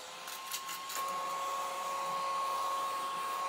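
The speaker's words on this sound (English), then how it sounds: "let's take out my little desk vacuum" Small desk vacuum sucking up paper-craft scraps on a crafting table, a steady high-pitched whirring hum that holds unbroken at a soft level, with no talking.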